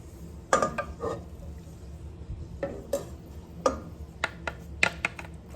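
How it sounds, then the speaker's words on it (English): Garlic and vegetables go into a hot pan for sautéing, giving scattered clinks and scrapes of a utensil against the pan over a low background sizzle, with a few sharper taps spaced through. "now we're going to go ahead and saute our vegetables. Putting in our garlic"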